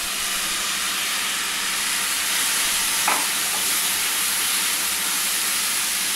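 Chopped tomatoes go into a hot pan of sautéed cauliflower masala, raising a steady broadband sizzle and hiss that holds evenly throughout, with one brief clink near the middle and no voices.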